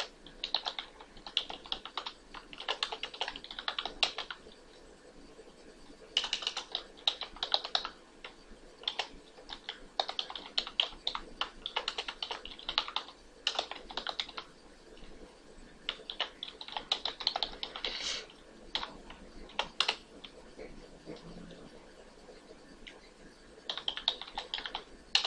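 A computer keyboard clatters as a program is typed, with quick bursts of close key clicks separated by short pauses across the whole stretch.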